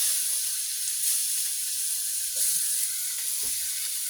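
Ginger and garlic sizzling in a hot pan for chicken and shrimp chop suey, a steady close hiss of frying with faint stirring clicks, no voices.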